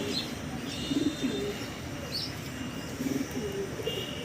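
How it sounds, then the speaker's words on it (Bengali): Soft coos from Rajshahi Giribaz pigeons come in two short bursts, low and rolling, over a steady background hum with faint chirps. "দেখুন একদম সম্পূর্ণ সুস্থ কবুতরগুলো"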